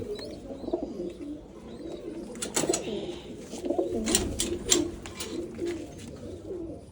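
Pigeons in a loft coo in soft, repeated low calls, with scattered wing flutters and rustling against a steady background murmur.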